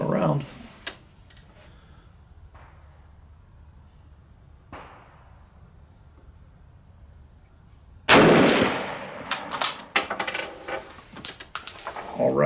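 Rifle fire at a 100-yard range from a K98k, a No4 MK II and an M44, with a few sharp reports, one loud close blast followed by echoing rumble and clatter.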